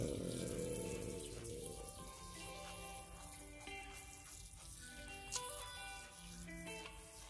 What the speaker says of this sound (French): Alors on va arroser.